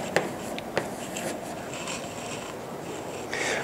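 Writing on a board in a mathematics lecture on differential geometry, soft scratchy strokes with a couple of sharp taps as the marker meets the surface, close and without talking.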